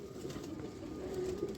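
Pigeons of the Rampuri kind, full-feathered, make a soft, continuous low cooing murmur that stays fairly faint and steady throughout, with no talking over it.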